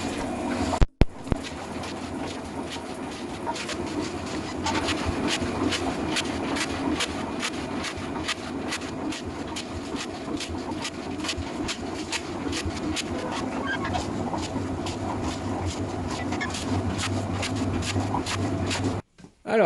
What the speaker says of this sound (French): Et ça se fait tranquillement avec la bétonnière sans que vous ayez besoin de le secouer pendant des heures